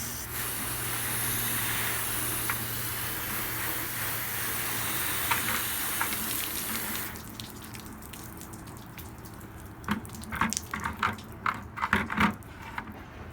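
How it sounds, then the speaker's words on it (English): A shower-pattern hose nozzle sprays water onto a car hood used as a test panel, producing a steady close hiss that cuts off abruptly, followed by scattered drips and splashes. "we're just going to wet down the hood."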